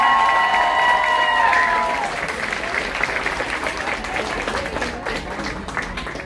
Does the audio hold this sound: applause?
yes